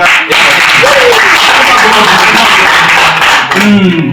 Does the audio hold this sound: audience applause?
yes